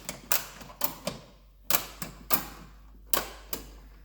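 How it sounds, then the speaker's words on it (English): A ratchet strap is cranked tight around a small drum, giving about nine sharp, uneven clicks with brief pauses between them, close and fairly quiet. "And then we've got a ratchet here, so we'll tighten it up"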